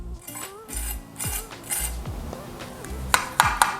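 A serving utensil cuts into the crust of a creamy cho cho casserole in a baking dish with a series of crisp crunches and scrapes. Sharp clinks of cutlery against the dish follow, close up.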